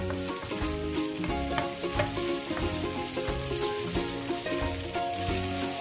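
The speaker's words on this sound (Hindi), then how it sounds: "अब इसके अंदर शामिल करेंगे आलू और मटर और इसको फ्राई करेंगे अच्छी तरह से" Potatoes and peas frying in a pan, a steady dense sizzle with occasional stirring scrapes, close and continuous with no talking.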